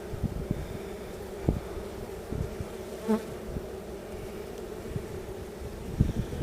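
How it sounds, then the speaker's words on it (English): Dense buzzing of many honeybees swarming around an open beehive during a summer inspection, a continuous close drone with individual bees flying past the microphone and light breeze in the background. "So many bees."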